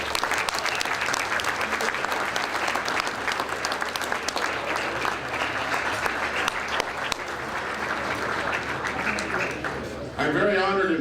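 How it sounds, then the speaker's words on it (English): Sustained applause from an audience at a 2012 Latin American International Sports Hall of Fame induction ceremony, honoring the Martin High School group Los Carnales; dense steady clapping fills the clip and stops abruptly near the end. "How about a big round of applause for Los Carnales?"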